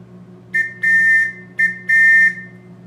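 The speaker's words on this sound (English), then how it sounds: "And this is the Metropolitan, the classic police whistle." Acme Metropolitan police whistle, the classic shrill pea whistle, blown in four loud, close blasts, two short and two longer, in a steady warbling tone with no other sound.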